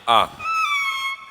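A violin imitates a cat, gliding through a short meow, a brief bright burst followed by a sustained wavering whine, close and clear.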